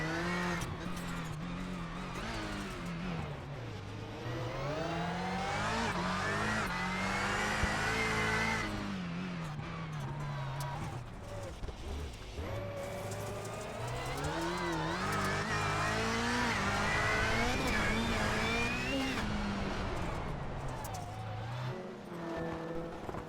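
Onboard engine of a rallycross race car in a sim racing game, revving hard and rising and falling in pitch through repeated accelerations and gear changes, loud and continuous with occasional tire squeal.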